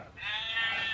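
A sheep bleats from a farm animal sound book, a single steady, nasal baa lasting about a second, clear and close with no talk over it.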